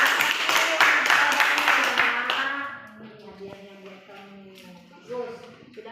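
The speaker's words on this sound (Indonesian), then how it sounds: "Oke, tepuk tangan dulu." Students in a classroom clap together in a brief burst of rapid claps that fades within a couple of seconds, followed by a voice talking close by.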